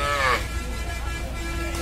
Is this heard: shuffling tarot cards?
no